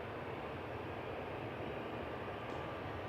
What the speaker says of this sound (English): Just had that police helicopter behind me there. Yeah, I can hear it rumbling away. Hovering around in the area.